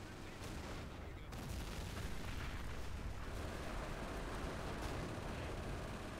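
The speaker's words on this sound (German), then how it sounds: "Schießt noch ein großes Geschoss rüber." A 76mm anti-tank gun in Company of Heroes fires a large shell, a loud booming discharge that swells into a sustained rumbling roar of battle, with faint talk beneath.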